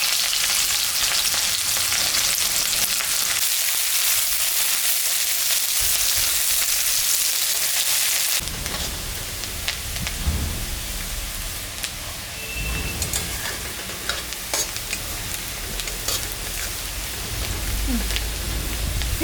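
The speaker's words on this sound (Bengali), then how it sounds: "পেঁয়াজটা ভাজা ভাজা হয়ে গেছে।" Onion frying in hot mustard oil with nigella seeds, dried chilli and garlic for mustard okra, a loud steady sizzle that drops in level midway and continues with faint stirring clinks.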